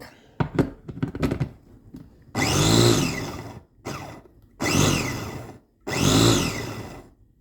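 A Bosch electric food chopper whirs in three short motor bursts, each a loud, close, rising whine separated by pauses, after some clicks and handling of the attachment.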